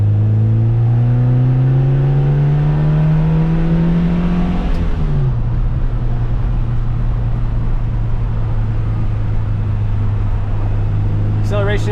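A 1970s BMW 2002 Coupe accelerating, its engine rising steadily in pitch, then dropping briefly at a gear change before resuming at a strong, close drone.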